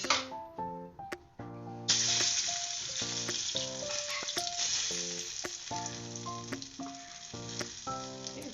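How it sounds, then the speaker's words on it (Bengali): Dried red chillies crackling in hot oil, a bright sustained sizzle that surges in partway through, partly covered by loud music playing over it. "প্রথমে শুকনো লঙ্কাগুলো একটু ফাটিয়ে দিয়ে"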